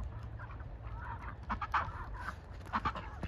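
Chickens cluck softly on a farm that raises Pekin ducks. Short, scattered clucks come in bursts, quiet against a low steady background hum, with no talking.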